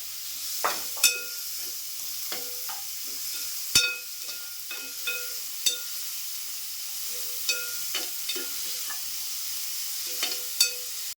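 Onions sauté in a pan, a quiet continuous sizzle broken by scattered clinks and scrapes of a spatula against the metal.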